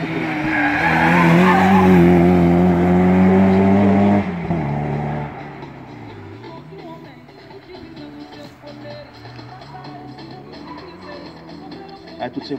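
Old cars at a historic hill climb race in Saint-Hilaire-le-Peyroux, with a loud engine roar and tire skid for about four seconds, then fading to distant, quieter track noise and a voice.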